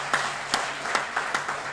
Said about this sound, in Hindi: एक बार ऐसे प्रधानमंत्री के लिए भी जोरदार तालियां